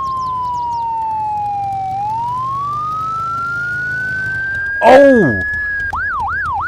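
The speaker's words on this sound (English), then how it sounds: "The siren's loud. It's really loud." A loud emergency vehicle siren wails close by, its tone sliding down and back up in a long sweep before switching to a rapid yelp; a person briefly exclaims as it passes.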